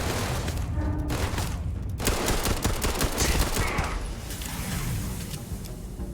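Heavy, rapid gunfire from a big gun in a video game, a loud sustained volley of booming shots with deep rumble, easing slightly toward the end.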